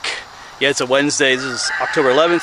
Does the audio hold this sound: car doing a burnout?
no